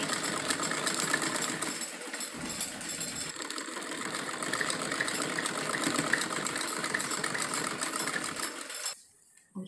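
A sewing machine stitching a salwar whirs steadily and close up for about nine seconds with a rapid mechanical chatter, then stops abruptly, leaving near-silence.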